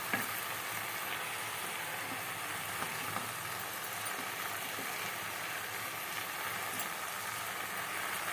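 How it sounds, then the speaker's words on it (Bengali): Kolmi greens frying in a pan while being stirred, with a soft, continuous sizzle and occasional faint scrapes, fairly quiet and steady throughout. "নাড়িয়ে নিচ্ছি।"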